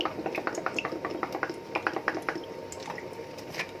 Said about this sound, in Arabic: احط زيت، بعمل الرز بزيت